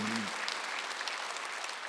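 A church congregation at a Sunday service breaks into brief applause right after a low tone, a steady wash of clapping that stays even and moderately loud throughout.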